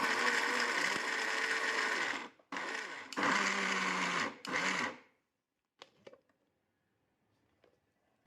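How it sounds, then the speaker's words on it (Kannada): A mixer grinder jar coarsely grinding crisp fried black gold laddu ingredients, two loud whirring bursts of a few seconds each with brief pauses, the motor pitch sagging under load, followed by faint clatter as it stops. "ಒಂದು ಮಿಕ್ಸಿ ಜಾರಲ್ಲಿ ಹಾಕ್ಕೊಂಡು ತರ್ತರಿಯಾಗಿ ಪುಡಿ ಮಾಡ್ಕೊಳ್ಳೋಣ"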